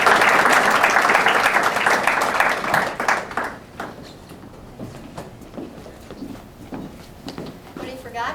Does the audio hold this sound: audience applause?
yes